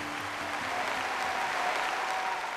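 Studio audience applause at a Chinese family variety show, welcoming a comedy father-and-son crosstalk act onto the stage: a steady, dense wash of clapping held throughout at moderate level, with no talk over it.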